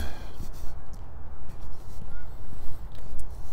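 Geese honk in short bursts outdoors near a garden, the calls moderately close and repeated over a steady rush of wind or ambient noise.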